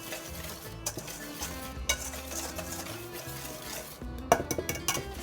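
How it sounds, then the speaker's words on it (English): A whisk stirs flour, baking powder and salt together in a bowl, giving steady scraping swirls punctuated by a few sharp clinks against the bowl rim, close and moderately loud, with light music underneath. "I'm going to whisk this together"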